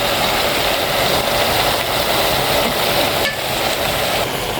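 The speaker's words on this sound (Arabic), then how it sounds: "هنزل بقى عليهم بالطماطم اللي انا قطعتها كلها. وهقلب كله مع بعض" Chopped tomatoes are stirred into meat in a pot, giving a continuous sizzle with soft scraping from the spoon that holds at an even level throughout.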